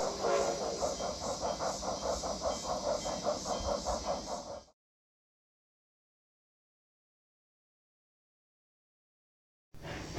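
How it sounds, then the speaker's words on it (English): A K-36 narrow gauge steam locomotive hauling a passenger train on a garden railway, with a steady rhythmic chuffing and hiss for several seconds close by, then a long stretch of silence before it briefly resumes. "I caught this K-36 and passenger train pacing alongside a Rio Grande Southern galloping goose."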